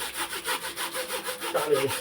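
A wire-bristled brush scrubs a washing machine pipe in quick, regular back-and-forth strokes, a close, rasping rhythm of about eight passes with no talking.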